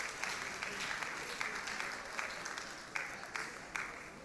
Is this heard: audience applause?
yes